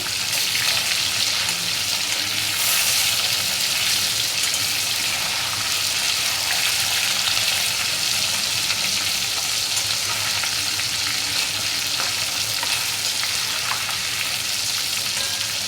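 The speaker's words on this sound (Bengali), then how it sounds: "মাছ ভাজা হয়ে গেছে এবার মাছগুলোকে তুলে নেবো" Katla fish pieces frying in hot oil in a pan, a loud, steady, continuous sizzle and crackle that goes on for about fifteen seconds with no talking.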